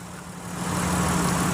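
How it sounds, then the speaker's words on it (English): A 2017 Dodge Caravan wheelchair-accessible van idles smoothly under the open hood, a steady, even engine drone with a low hum that swells slightly after the first half second and holds alone. "Under the hood, idle smooth."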